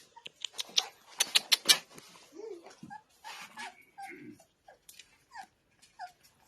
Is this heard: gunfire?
no